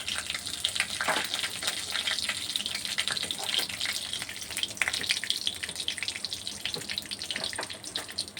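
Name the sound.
whole cumin and bay leaf sizzling in hot oil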